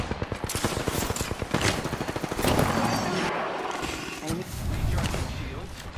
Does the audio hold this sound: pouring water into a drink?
no